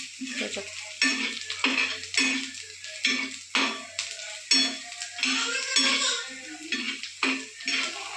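Onions sizzle and fry in a pan in a home kitchen, with repeated bursts of stirring scrapes over a steady sizzle, close and moderately loud, and no talk.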